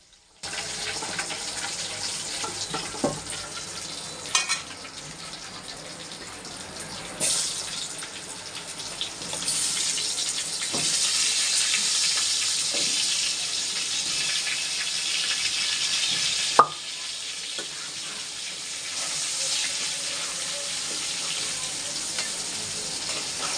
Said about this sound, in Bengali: পরে আবার পেঁপে আর আলু একসাথে ভেজে নিবে ঢেলে।